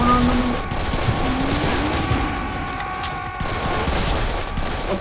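Rapid gunfire in Serious Sam 3 BFE co-op play, dense bursts of shots and booms packed together over a tonal game soundtrack, loud and continuous throughout.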